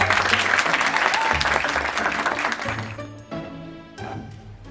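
A theatre audience bursts into dense, sustained applause, loud and continuous for about three seconds before thinning into scattered claps and fading.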